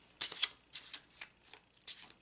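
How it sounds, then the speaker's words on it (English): Playing cards being shuffled in several quick riffling bursts, crisp and close, with short pauses between each pass. "I'm going to take a moment to shuffle the cards"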